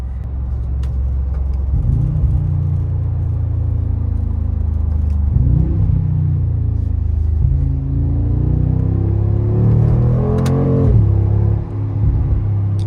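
A 2021 Mercedes-AMG G63 4Matic SUV accelerates hard, its engine roaring loud and close through several rising sweeps as gears change, with a deep rumble underneath throughout.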